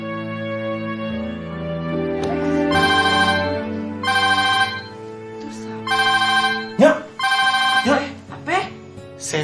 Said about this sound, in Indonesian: Ya udah lo angkat dulu tuh telepon